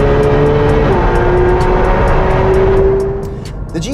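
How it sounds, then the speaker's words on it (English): Porsche 718 Cayman GT4 race car on a racetrack, its engine droning loud and steady at high revs before fading slightly as it moves off, with little else around it. "This is a GT race car from Porsche."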